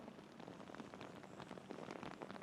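Heavy rain pours down at a Barcelona motor racing circuit during an Italian F4 race, a dense, steady hiss of drops hitting surfaces, fairly quiet and with no voices.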